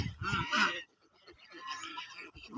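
Geese kept on a farm give two loud, close honking calls, each about a second long, separated by a short pause.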